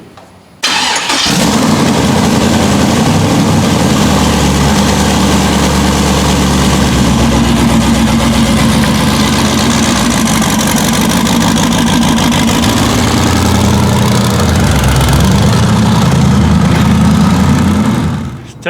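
A twin-turbo LS V8 swapped into a Toyota Hilux fires up for the first time and settles into a loud, steady idle that runs close by and unbroken, with a deep rumble for nearly the whole stretch.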